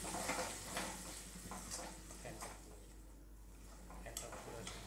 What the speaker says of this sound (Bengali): অল্প একটু জল দিয়ে মশলাটা কষিয়ে নেব।